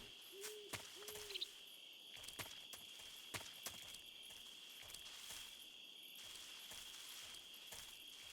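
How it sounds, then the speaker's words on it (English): Owl hoots in the night ambience of the stealth game Metal Gear Solid 3, two quick paired hoots near the start over a steady shrill cricket and insect drone, with scattered soft footsteps and clicks. "Dang birds, man."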